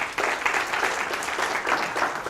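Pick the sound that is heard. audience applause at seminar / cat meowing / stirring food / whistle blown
audience applause at seminar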